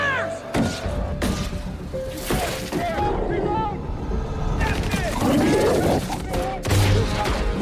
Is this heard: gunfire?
yes